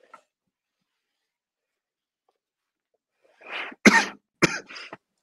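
A person coughs several times in close succession near the microphone, short harsh bursts in an otherwise quiet room, during a business conference call.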